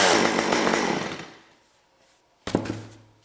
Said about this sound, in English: Oh, come on, start. It's gonna start. The chainsaw works great.